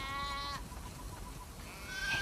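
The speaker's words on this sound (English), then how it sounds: "We definitely have way too many sheep." Sheep in the video game The Last of Us 2 bleat twice, a wavering bleat at the start and another near the end, with ambient game noise between them and no talking.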